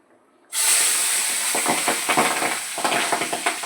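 Fish drop into hot oil in a heated kadai for Bengali home cooking and burst into a loud, steady sizzle. Sharp spitting pops continue through the hiss, and no one talks.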